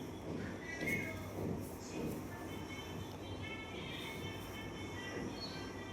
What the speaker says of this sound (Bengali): বসেছিলাম, ট্রেন ছেড়ে দিয়েছে, এবার নেমে যাচ্ছি এসপ্ল্যানেডে